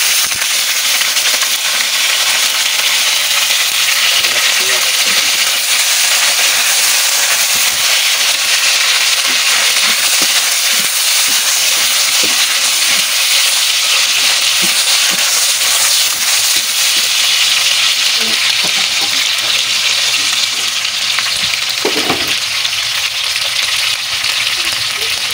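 Onion fries in a hot pan with a loud, continuous sizzle, dense crackling and occasional stirring scrapes, close up and unbroken throughout.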